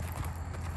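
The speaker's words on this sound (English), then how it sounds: "they're going to bring the horse for you over there so you can ride it" Horse hooves clip-clop at a pony ride on an animal farm, a steady close rhythm of hoof falls over a low rumble with no talking.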